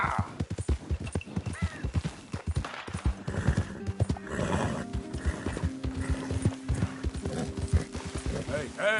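A horse in Red Dead Redemption 2 gallops with rapid clip-clop hoofbeats and lets out whinnies, while someone speaks and calls out over the running hooves.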